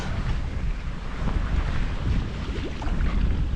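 Steady wind roars across the microphone on a sailboat under way off Martinique toward Dominica. A broad, continuous rush of air blends with hull and water noise, with no voices.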